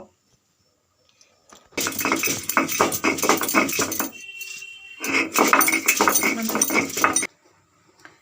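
Coriander leaves ground by hand on a stone grinding slab with a grinding stone, giving two long bursts of loud, rhythmic rubbing and knocking of stone on stone, separated by a brief pause.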